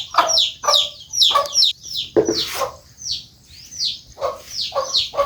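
Hens cluck and squawk in a run of short, bright calls close by, several birds overlapping in quick bursts with small pauses between, no talk over them.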